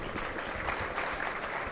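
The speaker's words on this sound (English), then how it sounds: "I'd like to ask you for applause for our graffiti artist here." An audience applauds a graffiti artist at the introduction of a virtual reality painting app, a brief burst of dense, close clapping with a low rumble underneath.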